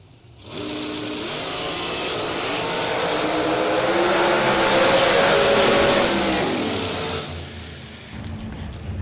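Drag racing cars launch in a bracket race, a loud, sustained engine roar that swells as they accelerate down the strip and then fades away.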